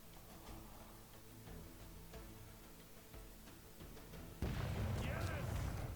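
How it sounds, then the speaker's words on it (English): Pirate ship cannons fire in the turn-based roguelite Rogue Waters, a loud sudden boom near the end crashing in over a low rumbling game background with faint ticking. "Cannons."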